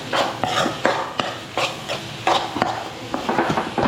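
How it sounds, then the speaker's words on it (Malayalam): A spoon scrapes and stirs coriander powder with other spice powders in a pan of Kerala tomato curry, giving repeated sharp scrapes and clinks against the metal with a soft sizzle underneath, close and fairly loud. "മല്ലിപ്പൊടി ഇട്ടിട്ട് നന്നായി ഇളക്കാം"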